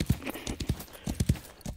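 Horse hooves clip-clop steadily while riding in the video game Wild West Online, a close, even trotting rhythm of hollow thuds over a couple of seconds.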